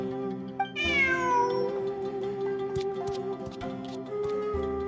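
A single clear cat meow from the video game Genshin Impact, rising then falling, followed by steady ticking and a low electronic hum in the background.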